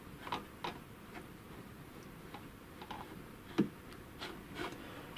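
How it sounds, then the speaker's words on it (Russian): A Chaika 2 sewing machine running after repair ticks with a faint, irregular knocking from the cam copier mechanism, light clicks coming every half second or so at close range, with no talk. "Так, есть еще еле заметный стук."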